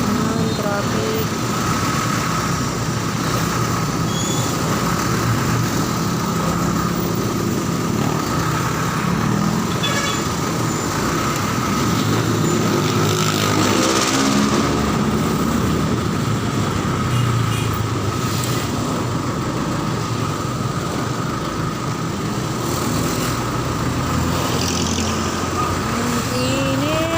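Road traffic in the Philippines, a steady wash of idling engines and vehicle rumble from inside a commuter service van, continuous and fairly loud throughout, with voices talking over it.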